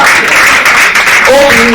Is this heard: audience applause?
yes